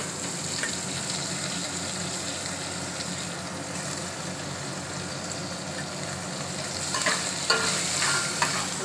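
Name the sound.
chicken and onion frying and being stirred in a pan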